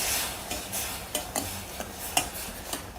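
Aval payasam (flattened rice pudding) on the stove, its mixture starting to boil: soft bubbling and sizzle with intermittent stirring clinks of a spoon against the pot, close and steady.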